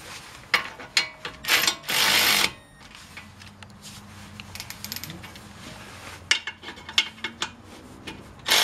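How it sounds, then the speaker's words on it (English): Wrench ratcheting and clicking against bolts on a Lexus ES 350 front wheel hub, in short bursts of metallic clicks with a louder grinding run near the start and scattered taps afterward. "I can just use a wrench on them."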